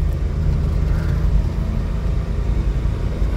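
A small kei mini truck engine idles with a low, steady rumble and heavy vibration, close and continuous with no voices over it.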